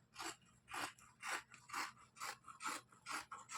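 Scissors cut blouse fabric in about eight steady rhythmic snips, each a crisp rasping crunch, close and fairly quiet with no talk.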